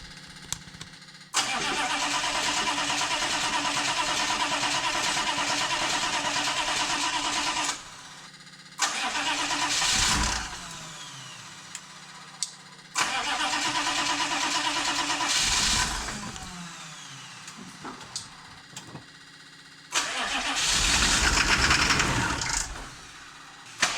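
A Chevy 6.5 diesel engine with a newly replaced DB2 injection pump cranks over in three long bursts of steady starter churning. Brief rising engine surges follow the second and third bursts, separated by pauses, with no voices.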